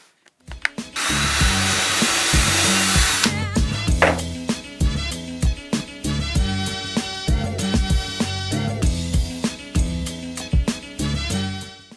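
A power drill bores into a piece of scrap wood in a home workshop, a loud steady whine for a few seconds, then a series of shorter revving bursts and stops as the bit works through the board.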